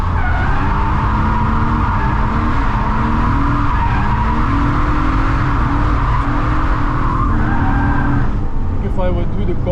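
A 160 hp drift car slides around the Nürburgring drift cup layout, tires squealing in long wavering screeches over a loud engine drone, with someone talking throughout.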